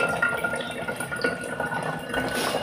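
Water is poured into a container for drinking, a steady close trickle and fill sound lasting a few seconds with no talk over it.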